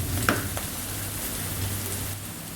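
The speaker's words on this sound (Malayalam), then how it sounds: "ഇതിനെ നന്നായിട്ട് വഴറ്റിയെടുക്കുക" Ginger and garlic sautéing in hot oil in a pan for a fish head curry, a steady close sizzle with a few stirring scrapes near the start, no talk.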